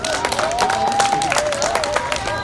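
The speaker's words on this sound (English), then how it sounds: "Let's give them a round of applause." Audience applause at a school presidential debate, a brief burst of steady clapping from a crowd with some cheering, fairly close, with a voice over the top.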